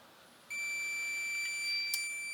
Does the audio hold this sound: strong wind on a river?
no